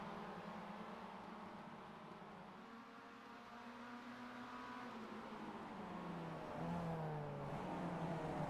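Several Mazda race cars accelerating onto Tsukuba Circuit in iRacing, engines droning and revving upward together in overlapping tones, growing louder toward the end, with no talk.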